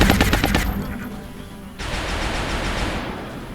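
Gunfire in the video game XCOM opens with a rapid burst of automatic shots, then trails into a loud, rough rush of noise that holds to the end.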